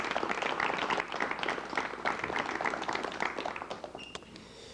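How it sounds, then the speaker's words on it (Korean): A studio audience on a Korean talk show applauds to welcome a computer-industry company chairman as a guest, sustained dense clapping throughout that eases slightly toward the end. "여러분, 한국전자계산주식회사의 이주용 회장님을 박수로 맞이해 주시면 대단히 고맙겠습니다."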